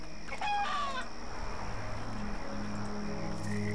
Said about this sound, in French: C'est quoi? Oh, un poulet.